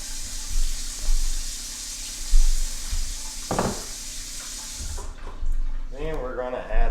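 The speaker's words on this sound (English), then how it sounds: "we're going to add 4 cups of water" Four cups of water are poured into a container to make a dye bath for knife scales, a continuous hissing splash that runs for several seconds before stopping, followed by clinks and a voice speaking nearby.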